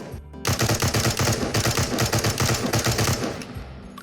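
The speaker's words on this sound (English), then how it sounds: "let's also look at the M14's recoil when spammed" An M14 rifle firing 7.62x51 rounds in the VR game Into the Radius lets off a loud, rapid string of about twenty shots over roughly three seconds, then stops abruptly.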